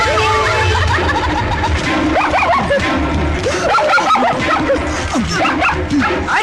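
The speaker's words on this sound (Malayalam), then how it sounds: "പോണ പട്ടിയാ." A dog barking and yelping in rapid, overlapping bursts with whimpers between, loud and close, continuing throughout with a low hum beneath.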